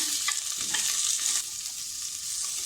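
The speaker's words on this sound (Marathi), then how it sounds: "बघा आता आपले पाय हळदीमध्ये छान मी परतून घेतले आहेत" Mutton trotters sauté with turmeric in a pan, giving a continuous bright sizzle with soft stirring scrapes, close and steady over a few seconds.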